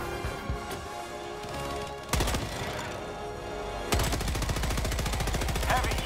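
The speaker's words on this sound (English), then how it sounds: "I'm gonna get on one of the stationary guns." A stationary mounted machine gun in Helldivers 2 fires in loud, close bursts. Short volleys come first, then a sustained rapid stream of evenly spaced shots.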